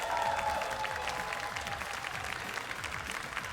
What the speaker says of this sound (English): Big cheer for Sheba.